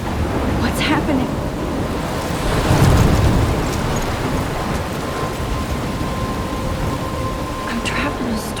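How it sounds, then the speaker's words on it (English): A Life is Strange video game thunderstorm with steady heavy rain and wind, a deep thunder rumble swelling near the middle, and faint tones in the background. "I'm trapped in a storm?"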